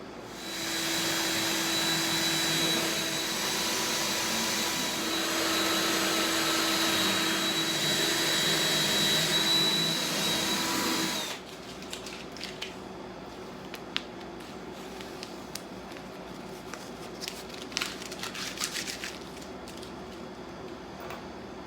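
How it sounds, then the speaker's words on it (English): A drill bores a pilot hole through a wooden console table drawer front, a loud steady whir for about eleven seconds that cuts off abruptly, followed by quieter handling clicks and taps. "Now I'm just going to drill a little pilot hole, and then I'll come through with our final bit to get that to the right dimension."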